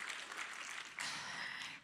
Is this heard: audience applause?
yes